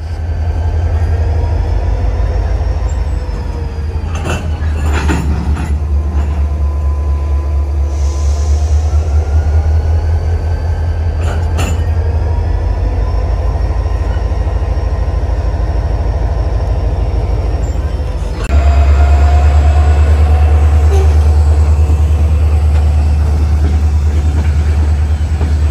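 A Florida East Coast Railway switcher locomotive shuffles freight cars, a loud continuous low engine rumble with occasional clanks and a surge in level near the end, heard close by.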